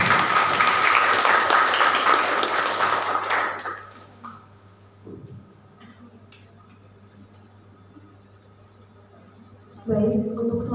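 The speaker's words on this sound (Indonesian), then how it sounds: "Kita beri tepuk tangan untuk kedua paslon" An audience at a student candidate debate applauds both candidate pairs, a dense round of clapping that fades out after a few seconds, followed by quiet room tone and then a voice resuming.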